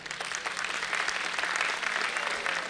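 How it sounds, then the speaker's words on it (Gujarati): An audience at a school annual function in Upleta breaks into steady, sustained applause, a dense even wash of many hands clapping at a distance with no talk over it. "એકવાર જોરદાર તાળીઓ થઈ જાય."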